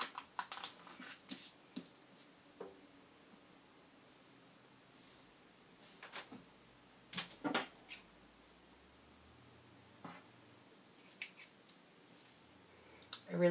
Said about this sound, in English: I really should be using small scissors for this.